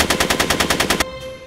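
Rapid automatic gunfire from Back to the Future: The Game, about a dozen evenly spaced loud shots in one burst that stops abruptly, leaving a faint ringing tone and quiet room.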